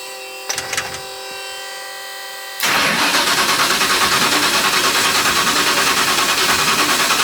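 A twin-turbo Ford Crown Victoria engine on a weak, undercharged battery, sounding after a quiet stretch with a few light clicks: a loud, steady churning roar with a fast pulsing rhythm that holds to the end.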